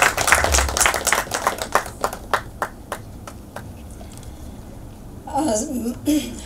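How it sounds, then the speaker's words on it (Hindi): Hands clap loudly for Seema at a Hindi comedy film teaser release event, a burst of applause fading into scattered claps, followed by a brief voice toward the end. "जोरदार तालियां सीमा जी के लिए।"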